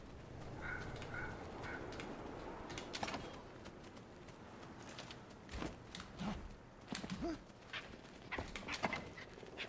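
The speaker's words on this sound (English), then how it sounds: "Bird, bird. Bird's the word." Birds in the game Enshrouded coo and chirp under a constant dense ambient bed, with scattered soft clicks and thumps, moderately faint and with no clear talk.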